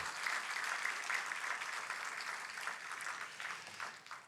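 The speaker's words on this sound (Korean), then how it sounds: "우리 이들을 향한 축하의 박수 한번 하십시다." Church congregation claps in celebration after an infant baptism, a soft, even wash of applause heard from a distance, steady for a few seconds with no talk over it.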